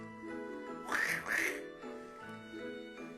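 A voice mimics a harsh, squeaky rusty-scissor sound in two strained bursts, with nasal, quack-like tones around them.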